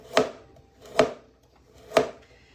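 Three sharp knife chops through Napa cabbage on a cutting board, spaced evenly about one second apart, close and crisp with quiet gaps between strikes.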